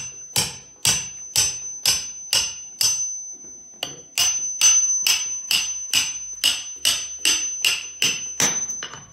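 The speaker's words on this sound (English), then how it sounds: "take the hammer, I'm gonna bang right in the center" Repeated sharp metallic hammer strikes driving a knife into a spaghetti squash, about fifteen evenly spaced blows with ringing overtones, loud and close, with a brief pause partway through.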